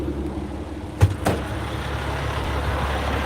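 A truck idling with a steady low engine rumble while being loaded, with a sharp thud and a second clunk of cargo or a door early on.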